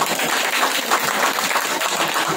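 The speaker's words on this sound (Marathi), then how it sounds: "एकदा महिला वर्गासाठी जोरदार टाळ्या करा." A crowd at a Marathi devotional bhajan contest claps loudly for the women's group, dense and even applause filling the whole short stretch without any talk.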